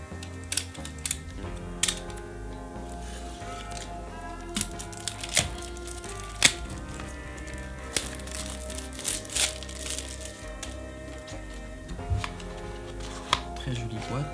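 Collector booster packs of Outlaws of Thunder Junction being unwrapped, with crinkling foil and plastic and scattered sharp rustles and taps, close and fairly quiet under background music.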